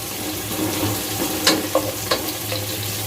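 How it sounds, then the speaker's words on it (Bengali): Sliced onions frying in oil with bay leaves and cinnamon for shahi chicken pulao, a continuous near sizzle broken by a few sharp stirring clinks and scrapes, no talking. "এখন দিয়ে দিব 1 কাপ পেঁয়াজ। পেঁয়াজটা খুব একটা লাল করা লাগবে না, একটু ভেজে নিলেই হবে।"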